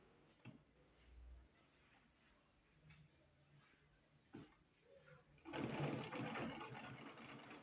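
A sewing machine stitching satin fabric along a sleeve edge, quiet at first with faint ticks and thumps, then a louder continuous mechanical whir starting near the end, heard close and alone.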